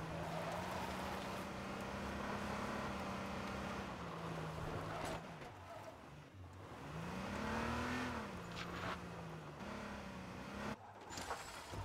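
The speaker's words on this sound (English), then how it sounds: "Cam Soda looks like he's going to retreat in his car." Engine noise from a car in a competitive video game match, a steady drone that rises and falls in pitch as it revs and accelerates, loud and continuous with a brief dip near the middle.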